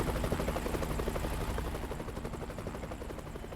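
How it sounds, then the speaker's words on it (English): A helicopter's rotor thumps in a rapid, steady pulse, distant and fairly faint, slowly fading as it passes. "I hear a helicopter."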